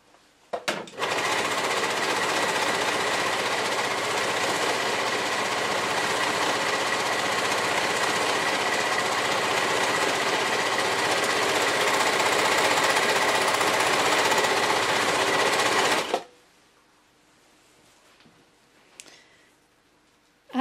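An overlocker serger stitches and trims fabric with a loud, steady mechanical whir that runs for about fifteen seconds and then stops abruptly, leaving near silence with a few faint clicks.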